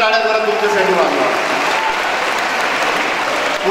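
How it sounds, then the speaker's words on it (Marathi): Loud, dense applause from a large audience at a university youth festival, a continuous wash of clapping that fills the whole clip. "म्हणून जोरदार टाळ्या जरा तुमच्यासाठी वाजवा"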